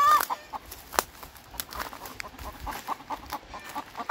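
An egg-laying hen clucks softly near her nest, giving a few faint, scattered clucks over a low background hiss.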